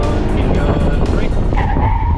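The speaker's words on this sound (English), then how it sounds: "Brake nice and hard, high initial pressure, Okay. and then hold it all the way to a stop." A car braking hard to a full stop, tires squealing and skidding over steady road noise, loud and close, with a rising squeal toward the end.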